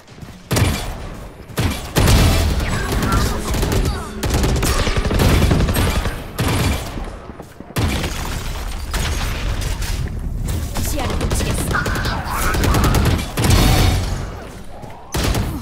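Rapid gunfire and explosions from a team deathmatch video game, dense bursts and booms layered almost continuously throughout, loud and busy with brief lulls.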